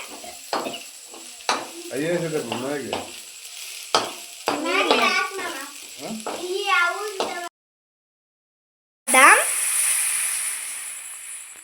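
Maggi noodles are stirred in a hot pan, with close scraping and a soft sizzle under the chatter of children's voices, then a brief dead gap before louder frying resumes.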